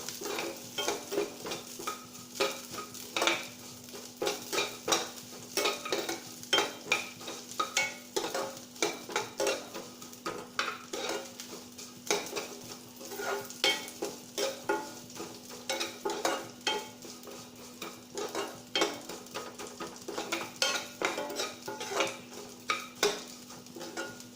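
Custard powder dry-roasting in a pan as a spoon stirs it, giving quick repeated scraping strokes with faint sizzle, close and fairly soft, steady for the whole stretch with no voices.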